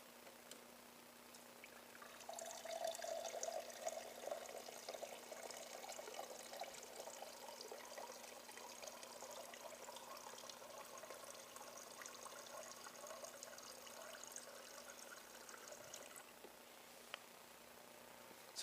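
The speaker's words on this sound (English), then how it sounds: "we're going to run a little bit of water through our new pipe" Water runs from a newly replaced dispenser pipe on a KitchenAid Superba refrigerator, a steady pouring trickle that starts after a couple of seconds, flows continuously for about fourteen seconds, then stops, close and alone.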